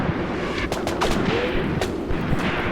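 Mortars fire from their tubes in the WW2 Soviet battle game Graviteam Tactics: Mius Front. Several sharp, loud reports come at irregular intervals over a dense rumbling backdrop of distant gunfire, with no voices.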